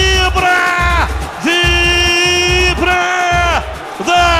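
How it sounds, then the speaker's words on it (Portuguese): A football crowd yells and cheers after a goal at a municipal championship match between Atlético Paulínia and Sporting CP, loud repeated voiced bursts in pulses with brief dips between them. "É torcida vibra"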